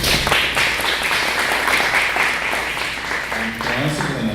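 An audience at an urban-happiness panel discussion applauds in a steady broad wash of clapping, with a voice starting to talk over the last stretch.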